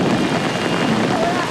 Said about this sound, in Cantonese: 今日連場暴雨